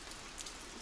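Steady rain falls at a village house with a veranda under construction, a soft continuous hiss without voices.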